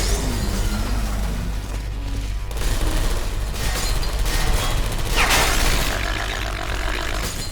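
Rapid gunfire from a Portal 2 turret aimed at the player, a dense continuous burst of shots filling the clip, loud and close, with no talk over it.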